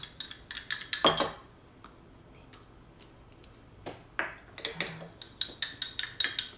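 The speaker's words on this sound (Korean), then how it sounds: "선생님이 넣은 것처럼 숟가락으로 이제 골고루 다 저어주세요" A spoon stirring ingredients in a beaker while making cosmetics: bright clinking taps against glass, a cluster at the start, a quieter pause, then a steady run of rhythmic clinks near and clear.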